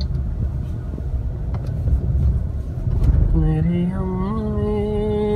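A car engine rumbles steadily from inside the cabin while driving through Karachi city streets looking for a parking spot near a bank tower, with someone talking over it in the second half.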